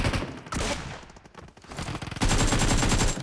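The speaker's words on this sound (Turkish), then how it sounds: "Bu silah sesinde bizi bile duymuyor." Gunfire in the video game PUBG Mobile: rapid automatic bursts crackle loudly and close, a dense volley, a short lull with scattered shots, then another sustained string of fire.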